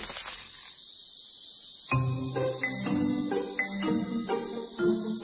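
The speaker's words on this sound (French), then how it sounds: "les cigales sont faciles à entendre, mais difficiles à voir" Cicadas in Madagascar buzz in a dense, continuous high drone, joined after a couple of seconds by a rhythmic pulsing chorus of clicks and trills, fairly close with no voices.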